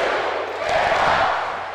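Dense arena crowd roar with a rising chant-like swell from a large audience in the Joe Louis Arena in Detroit, heard in a WWE 2K18 wrestling game; steady and loud throughout with no clear voice on top.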